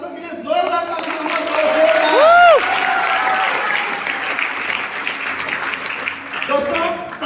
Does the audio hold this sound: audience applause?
yes